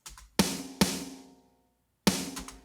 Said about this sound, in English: That's a sick snare drum sound.